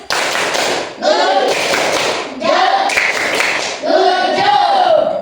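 A school class performing a rhythmic clapping chant in several bursts, sharp hand claps and taps mixed with children's chanting voices, loud and close.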